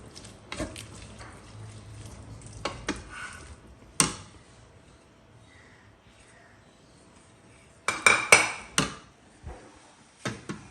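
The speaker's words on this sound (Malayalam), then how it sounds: "കടല ചേർത്തതിന് ശേഷം നന്നായി ഒന്ന് ഇളക്കി ഒന്ന് യോജിപ്പിച്ച് കൊടുക്കുക" Black chickpea curry is stirred in a pot, sharp metallic spoon knocks and scrapes coming in scattered clusters against near silence, close by, with no talk.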